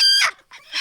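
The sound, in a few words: chickens clucking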